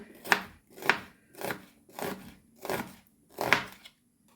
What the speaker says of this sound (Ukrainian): Наріжу півкільцями цибулю.